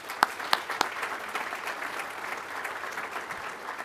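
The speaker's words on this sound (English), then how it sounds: "please, a round of applause for our instructor pilots" A graduation audience for a pilot training class applauds its instructor pilots, a few sharp claps at first swelling into continuous crowd clapping, moderately loud and without talk.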